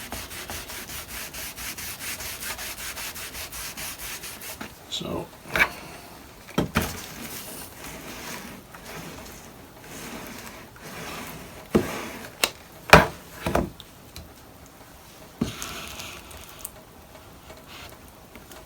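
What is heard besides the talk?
veneer hammer pressing down wood veneer with glue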